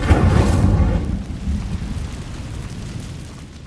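Incendio fire spell cast in Hogwarts Legacy, a loud whooshing, roaring burst of flame with a deep rumble that fades into a lingering crackling tail over a few seconds.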